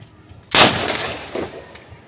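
A boga, an improvised cannon, fires one loud, booming blast outdoors that trails off into a rumbling echo, with faint thumps following.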